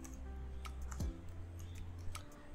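Password being typed on a computer keyboard, with a few faint, scattered key clicks over a quiet electrical hum and a soft bump partway through.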